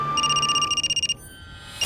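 A telephone rings indoors in a domestic drama scene with a bright, repeating electronic trill in quick pulses that then cuts off, followed by near silence.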